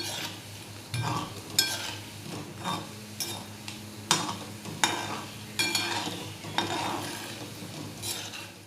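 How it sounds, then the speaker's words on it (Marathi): Upvas kachori frying in oil over a low gas flame, a soft continuous sizzle punctuated by intermittent clinks and scrapes of a utensil against the pan, close by with no voices. "3-4 मिनटं असे लागतातच आपल्याला स्लो गॅसवरती तळायला."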